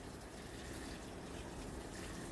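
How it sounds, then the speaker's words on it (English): Water pours steadily and heavily onto a sweet potato planting in a breathable fabric grow bag, a continuous close gushing splash with no pauses. "So that's why watering this heavy right now is important."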